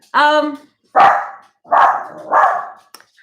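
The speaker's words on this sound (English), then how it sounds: "Dog barking." A dog barks four times in quick succession, loud and close, with short pauses between the sharp barks.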